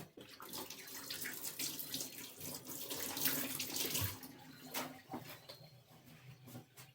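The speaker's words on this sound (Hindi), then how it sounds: "लहसुन को मैं धो लेती हूँ क्योंकि इसमें हल्की हल्की मिट्टी मिट्टी सी लगी होती है" Garlic cloves with a little soil on them are rinsed under a running kitchen tap: a steady stream of water splashing into the sink, close by, swelling slightly in the middle before it tapers off near the end.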